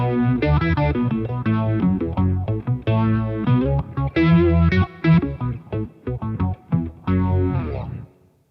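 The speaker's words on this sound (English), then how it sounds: "while you're in mono mode, the mod sounds more like a phaser than a rotary." An MXR Poly Blue Octave guitar pedal in mono mode, its modulation giving a phaser-like sweep over a distorted, octave-thickened electric guitar. The notes and chords are played in bursts, loud and close, with no talking.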